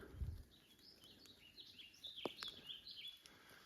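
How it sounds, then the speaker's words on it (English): Faint songbird song in a forest at Lake Minnewanka, with scattered high chirps and trills, distant and quiet, over a soft background hiss. "And I think it's the first birds I've heard all day."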